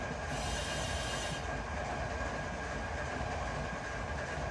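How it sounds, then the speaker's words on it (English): A train in Run 8 Train Simulator rolls downhill with the independent brake applied, a loud, steady rumble of wheels and rail noise with a hissing brake release at the start. "Here we are hitting some independent brake now."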